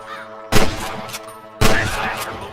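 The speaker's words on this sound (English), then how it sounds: "I can hear more gunshots." Two loud, close gunshots ring out about a second apart in the Western video game Red Dead Redemption, each with a sharp crack and a rolling echo.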